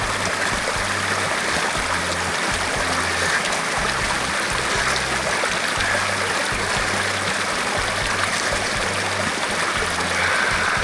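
Spring water from a forest spring in a limestone ravine runs steadily near a small pond, a continuous close rushing trickle with gurgles and no voices.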